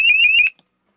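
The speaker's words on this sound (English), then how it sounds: "You have a panel at the very top right, which is the alarm for your high water alarm in your bilge." High water bilge alarm on a 37-foot SeaHunter boat: a loud, piercing electronic tone pulsing in four quick beeps before cutting off, heard alone and close.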